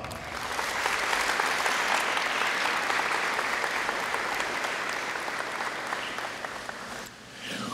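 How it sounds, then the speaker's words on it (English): A big round of applause fills a high school auditorium during an alumni honours assembly, a dense continuous roar of many hands clapping, steady throughout before dipping briefly near the end. "Please, let's give him a big round of applause."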